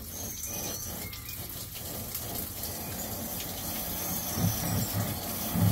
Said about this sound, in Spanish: Ahora escuchen cómo se dispara la válvula cuando salga mucha agua.